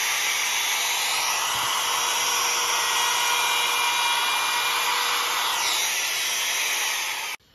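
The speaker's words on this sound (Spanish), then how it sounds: "para cortarle estos excesos, yo lo voy a hacer con el router, con esta cuchilla" A router with its cutting bit trimming excess wood from a lazy susan panel in a woodworking shop, a loud, steady high-pitched whine running for about seven seconds before cutting off abruptly.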